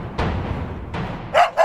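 A dog barks in a children's storybook reading of the town mouse and country mouse, giving two loud, rough barks followed by two short, sharp higher yelps, close and alone with no talk.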